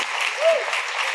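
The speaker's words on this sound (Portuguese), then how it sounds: "Eu queria que vocês aplaudissem a Jesus pela vida dos nossos" Audience applause at a pastors' and psychology conference podcast, a short burst of dense, steady clapping from a gathered crowd.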